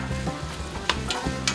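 Bacon, mushrooms, onions and shallots sizzle and fry in a pan, with a steady close crackle and a few scraping stirs breaking through.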